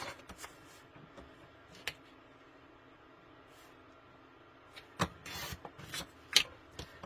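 Scissors cut pieces out of coffee-dyed paper, a quiet scene of scattered snips and soft paper rustles, with a few sharper cuts close together near the end.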